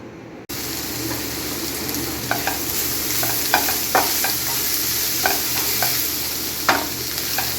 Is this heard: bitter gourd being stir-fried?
yes